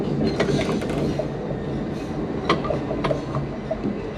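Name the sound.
Christchurch tram running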